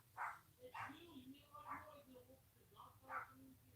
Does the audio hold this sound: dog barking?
yes